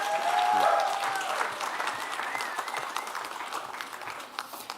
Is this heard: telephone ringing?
no